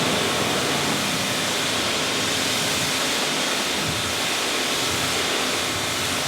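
A pressure washer rated 4.5 rinsing a car, giving a loud, continuous, broad hiss of spraying water that stays unbroken and close throughout.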